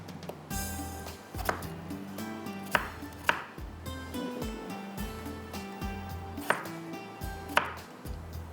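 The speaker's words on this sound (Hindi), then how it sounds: "चलें जी, आलू भी कटिंग कर लिए।" Potatoes are chopped into pieces on a board with a knife, a steady run of close, crisp knife strikes with a few harder thuds standing out.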